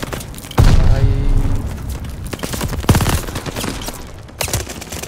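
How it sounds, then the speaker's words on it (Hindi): Grenade blast in the Call of Duty Vanguard multiplayer game: a loud, close boom with rumbling tail, followed by a sharp second impact and further bursts of gunfire, no voices. "चलो कोई ग्रेनेड तो फेंक रहा है"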